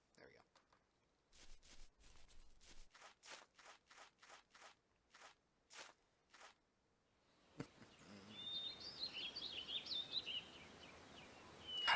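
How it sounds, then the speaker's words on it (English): Birds chirp outdoors in thin, high tweets that rise over a noisy background in the second half, after a series of soft, regular clicks. "so awkward hearing the birds chirping."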